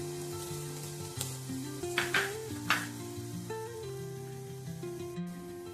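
Chopped capsicum hits a pan of sweet corn and sizzles steadily while being stir-fried, with occasional louder hisses and scrapes as it is tossed, all over soft background music.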